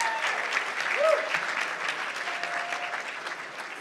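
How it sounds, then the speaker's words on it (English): Audience applause at a medical school graduation dinner, a steady wash of clapping from a room of diners, moderately loud and continuous, with a faint tonal whistle or squeak briefly rising above it. "let's all clap for Dean Johnson because she is amazing and wonderful"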